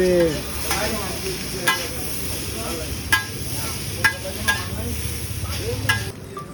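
Egg chow mein tossed with soy sauce and red chilli sauce in a hot pan, giving a steady sizzle under repeated scraping and stirring strokes, with a few sharper clinks of the utensil against the pan, close up and alone.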